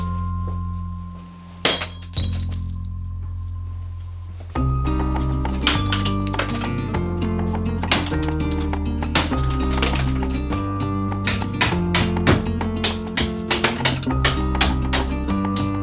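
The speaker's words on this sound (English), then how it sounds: "breaking the glass takes way more like force than you would imagine" A pane of window glass is smashed by hand: a sharp crack and burst of shattering, followed by scattered clinks and tinkling shards under a steady, dense background of other sound.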